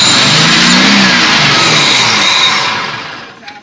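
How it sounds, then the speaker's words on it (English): A Ford F250 truck with a newly replaced starter cranks over and its engine roars to life, running loud and steady up close before dropping away and going nearly quiet at the end. "we're getting the battery installed, and we're gonna see if we can get this thing to crank over"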